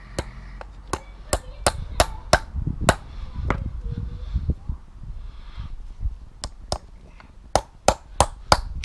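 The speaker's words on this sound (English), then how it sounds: "we'll just tap in three nails on the top" Sharp hammer blows strike nails into the top of wooden poles forming a tripod campfire base, single taps and quick runs of several hits, close and loud with pauses between.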